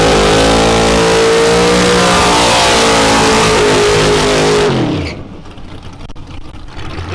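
A 1000hp drag car engine revving hard while drifting, a loud sustained high-revving roar with climbing pitch that cuts off abruptly, leaving a quieter rumble.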